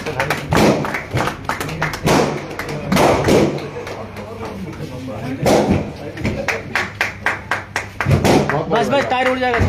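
An audience claps for Deepak at an AWPL celebration, with bursts of uneven hand claps and thumps mixed with loud voices talking over them, the clapping turning into a quicker patter near the end.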